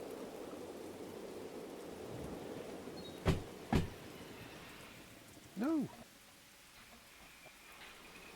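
Steady rain hissing down in the Derail Valley train simulator game, a continuous broadband wash under a couple of sharp clicks and a brief tonal chirp, with no talk over it.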